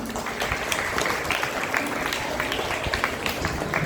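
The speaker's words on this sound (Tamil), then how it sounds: "பெரிய கரகோஷம் எழுத வேண்டும்." An audience at a Saivite religious festival gives steady, rolling applause after a devotional recital, moderately distant and fairly soft, continuous clapping with no speech over it.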